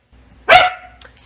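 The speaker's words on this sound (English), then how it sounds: "And that concludes my informative segment with corgi barking in between" A corgi lets out one sharp, loud bark close by, followed a moment later by a fainter short yip, over a quiet background.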